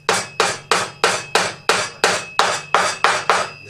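Steady hammering of nails into upholstery webbing held under tension, ten sharp, loud, evenly spaced blows with short ringing decay, close and alone.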